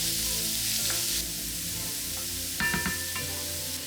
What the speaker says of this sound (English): Let's fry the onion and garlic on medium heat till they are somewhat transparent.